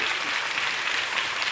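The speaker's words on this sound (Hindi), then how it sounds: "तालियां बजा करके स्वर्ग तक आवाज भेजो" Applause from a devotional gathering at a ritual ceremony in Chandragiri, Dongargarh, a dense, even wash of many hands clapping with no pauses.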